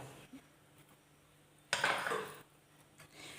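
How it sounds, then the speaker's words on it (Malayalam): Metal spoon scraping and clinking in a dish while chili powder and coriander powder are stirred together for a fried-coconut mackerel curry, with a brief cluster of clatter in the middle and quiet gaps around it. "ഇത് രണ്ടും നമുക്ക് നന്നായിട്ടൊന്ന് മിക്സ് ചെയ്യാം"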